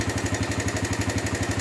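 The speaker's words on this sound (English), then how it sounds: "So the bike's actually running on the fuel." A motorcycle engine running on an alternative fuel idles steadily close by, a loud, even low throb with rapid rhythmic pulses and no voices.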